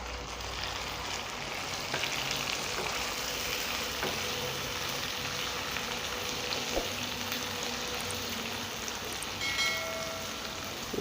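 Finely chopped tomatoes and browned onions sauté in a pan for restaurant-style sambhar, giving a steady, even sizzle through the whole stretch, with a few faint clicks and soft stirring scrapes and no voices.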